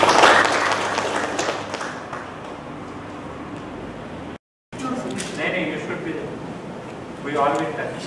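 Audience applause at a college exit meeting during a NAAC peer team visit, a loud burst of clapping at the start that fades into a steady patter, a brief dropout, then more crowd noise and voices.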